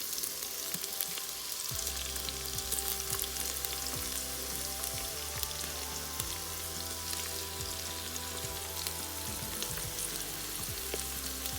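Mushrooms sauté in an Instant Pot pressure cooker with chicken to follow, giving an even, rain-like sizzle that runs on with faint scrapes and taps of stirring, close and steady, nobody talking.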